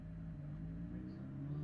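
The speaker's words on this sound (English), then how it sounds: "And also a loud car passing by my house." A loud car passes a house in a low, steady engine rumble that holds throughout the short stretch, heard alone without talk.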